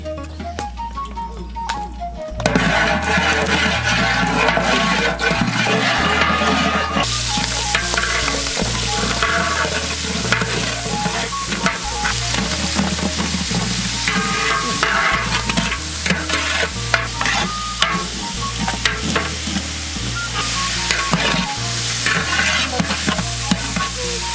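Prawns fry in ghee for a shrimp masala gravy, with a loud, steady sizzle and frequent stirring scrapes throughout. A brief quieter moment comes before the frying sound sets in.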